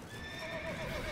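A horse in The Witcher 3 gives a brief, high whinny that wavers and slides downward, heard alone over faint game background.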